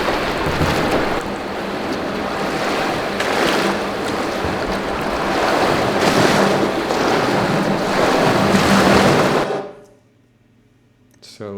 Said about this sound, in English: One is contains a water recording